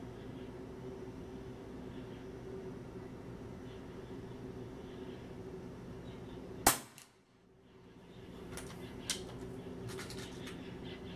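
One sharp, close shot from a Leviathan 5.5 mm air rifle, fired at a 50-metre target, breaks through a constant low hum, followed by a few faint clicks afterward.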